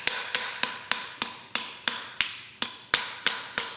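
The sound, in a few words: small ball peen hammer hammering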